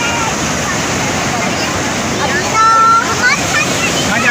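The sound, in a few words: strong ocean waves at Turtle Beach, Karachi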